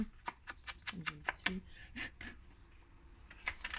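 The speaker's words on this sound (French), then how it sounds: "On encre tous les bords" Ink pad dabbed and rubbed along the edges of a handmade scrapbooking card, giving a series of close, soft rasping strokes in quick bursts with brief pauses.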